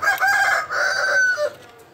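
A caged rooster crows once, loud and close, its call holding for over a second before breaking off into quiet.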